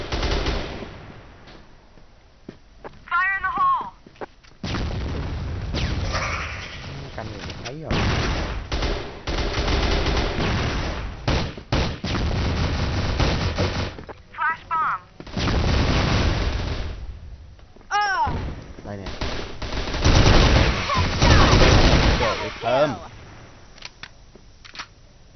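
M16 rifle gunfire in a bomb-planting shooting game, rapid loud bursts and sustained automatic volleys with pauses between, brief vocal sounds and game effects in the gaps.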